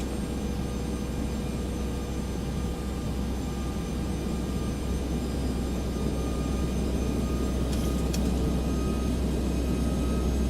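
Boeing 737-600 taking off in a flight simulator game: a loud, steady jet engine roar with a constant low rumble and no talking.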